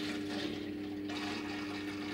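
A steady mechanical hum of a laser cutter's water-cooling pump runs throughout with a watery, churning rush layered over it, close and continuous.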